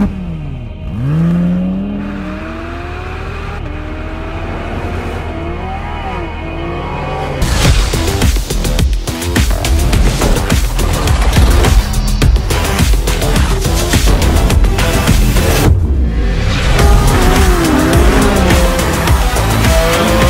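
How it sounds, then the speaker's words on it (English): A 2022 Porsche 718 Cayman GT4 RS flat-six engine while driving, starting with a quieter idle and blips before a loud, sustained high-revving pull that rises and falls through gear changes, up close with no talking. "But you know what I like best about this car? It's the engine sound"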